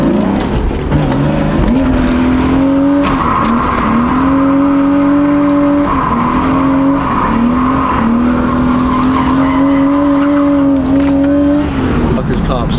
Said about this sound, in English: Are you doing drifts?